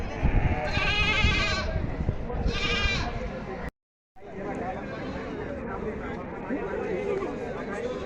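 Goats bleat loudly in two bursts over the busy murmur of a crowd at the Saykheda goat market in Maharashtra, India, with voices chattering throughout.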